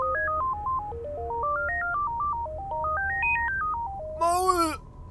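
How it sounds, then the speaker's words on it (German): In the horror game Call of Cthulhu: Dark Corners of the Earth, a telephone plays a stepped electronic tone melody, loud and clear over low background rumble, before a brief burst of noise at the end. "Warum klingelt jetzt hier ein Telefon?"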